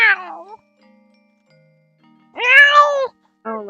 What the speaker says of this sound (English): A mad cat.